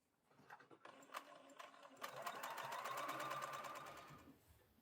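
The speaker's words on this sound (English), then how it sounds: "So you're going to sew from the very corner out, and then that will give your mitered line." A sewing machine stitches a mitered hem corner on fabric, starting with a few slow, separate stitch taps, then speeding into a steady rapid whirring run, quiet and close.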